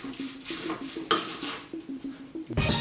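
Biscuit is stirred into praliné in a bowl, with a run of light clinks and scrapes from a utensil against the bowl. Irregular taps and strokes come up close, ending in a sharper clatter.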